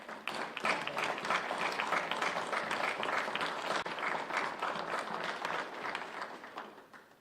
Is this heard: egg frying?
no